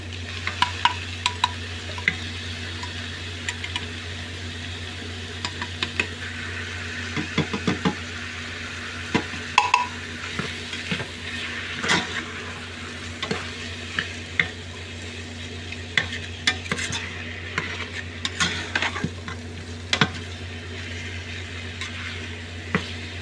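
Corned beef fries in a pan while being stirred, making a soft continuous sizzle under scattered clinks and scrapes of a utensil against the pan, with a low steady hum beneath, and no voices.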